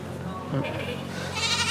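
On a goat farm, one brief, near goat bleat rises out of a murmur of background voices.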